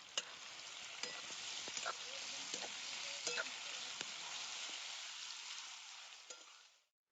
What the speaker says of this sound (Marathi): आता कांदा मी मस्त असा लाल भाजून घेणार आहे तेलात.